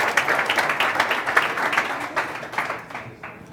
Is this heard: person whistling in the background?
no